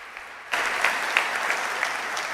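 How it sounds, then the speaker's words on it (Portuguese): Congregation applause in a Portuguese-language church service bursts in suddenly after a quiet moment, then holds as a full, sustained clapping of many hands with a few sharper individual claps standing out. "Você pode aplaudir Jesus."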